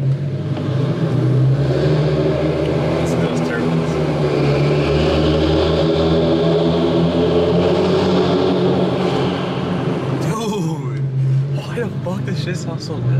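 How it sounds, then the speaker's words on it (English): An Infiniti Q50 Red Sport with an aftermarket exhaust revs loudly inside a parking garage, a sustained throaty drone that swells and echoes, with people talking and exclaiming over it. "Oh my god, best exhaust setup."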